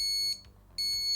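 ESP32 backup camera obstacle warning buzzer, two bursts of rapid high electronic beeping separated by a short gap, close and clear with no talk.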